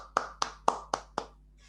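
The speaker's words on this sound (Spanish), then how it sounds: "Soy el único que enciende el micrófono para que se escuche el aplauso" After a talk on deep-learning character detection, five crisp handclaps ring out close to an open microphone, evenly spaced and steady, followed by quiet.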